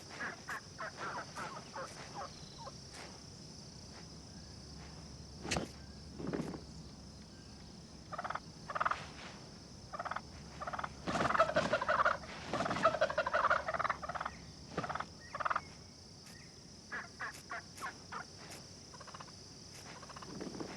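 A wild turkey gobbles in repeated outdoor calls, some drawn-out and warbling and others in short clucking bursts, heard at moderate distance over a faint insect-like background hiss, with no talking.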